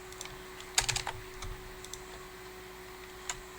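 Code is typed on a computer keyboard during a programming lecture, a few quiet clicks and a short flurry of keystrokes, then sparse taps over a faint electrical hum.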